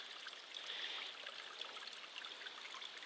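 Cold water streaming along a mountain trail, a steady close rushing and trickling wash with no breaks, fairly even in loudness throughout.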